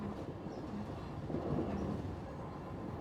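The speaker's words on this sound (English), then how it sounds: "the overnight train between Anchorage and Fairbanks" The Aurora overnight winter train between Anchorage and Fairbanks, Alaska, rolls along its rails with a soft, steady low rumble and faint rhythmic undertones, calm and even throughout.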